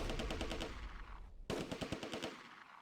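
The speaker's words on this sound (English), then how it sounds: "Then, rifle and machine gun fire erupts from multiple positions west of the roundabout." Machine gun fire in the WWII strategy game Close Combat: A Bridge Too Far at Nijmegen, rapid rattling bursts of shots with a brief gap before another sharp volley.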